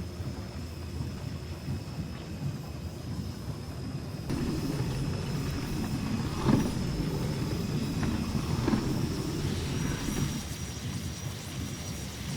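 Low rumbling rush of a train in the game Little Nightmares, steady and continuous, swelling louder midway with a few thumps, no voices.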